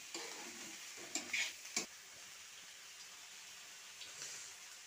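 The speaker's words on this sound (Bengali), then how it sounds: "এতে আমি এখন একটু হলুদ আর একটু লবণ দিয়ে দিচ্ছি, দিয়ে ভালো করে ভেজে নেব।" Onions frying in a pan with turmeric and salt added, a quiet sizzle with a few sharp scrapes and stirring clatters of a spoon against the pan, then soft, steady frying.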